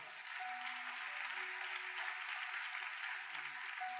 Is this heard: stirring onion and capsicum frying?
no